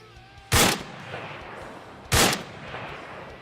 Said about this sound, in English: I'm going to fire a little bit higher, see if I get another hit on the target.